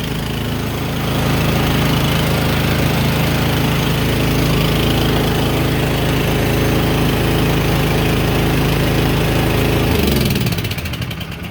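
A repaired Troy-Bilt snowblower engine runs loud and close at a steady, even pitch with no rise and fall in speed, then cuts off and winds down near the end.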